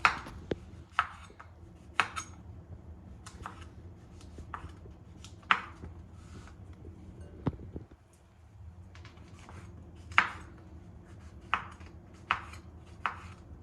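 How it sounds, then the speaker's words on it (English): Knife chopping mushrooms on a cutting board in a home kitchen, making scattered sharp taps at an irregular pace over a low steady background hum, fairly close but quiet, with no talking. "So I cut the mushrooms."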